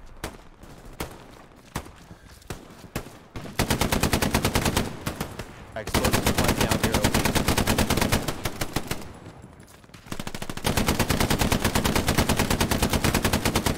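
A machine gun in a realistic shooter game fires long, loud, rapid bursts. Short pauses break the bursts, and a few earlier single shots come before the sustained fire.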